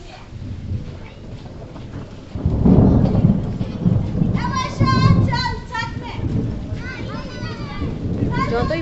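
Heavy rain pours down during a thunderstorm, with loud rumbles of thunder rolling through several times, and children's voices and talk carry over the downpour.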